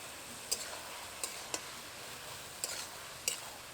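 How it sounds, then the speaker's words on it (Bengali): A spatula stirs snake cucumber (khero) curry with salt, turmeric, cumin and ginger paste in a pan, giving a handful of sharp, separate scraping clicks over a faint, steady sizzle, close by and with no voices. "এবার ভালো করে নাড়াচাড়া করে খেরোটাকে রান্না করব"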